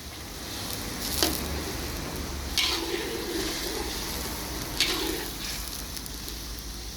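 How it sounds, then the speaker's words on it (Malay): A pot of vegetable soup bubbles and sizzles steadily in a continuous hiss, with a few brief clinks and scrapes, nearby and with no talking. "kita biarkan ia mendidih seketika dah."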